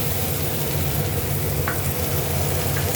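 Chopped onion and garlic sizzle steadily in hot mustard oil with dried red chilli and nigella seeds for a Bengali greens fry, a dense continuous crackle heard up close with a couple of faint stirring scrapes.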